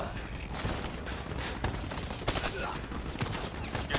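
Burst-fire weapon shots in the video game Black Ops 3, sounding as repeated short volleys amid battle noise, with voices talking over them.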